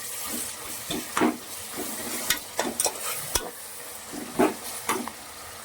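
Carrots and onions sizzling with a little salt in a hot pan, broken up by repeated scraping and clattering from a spoon stirring them.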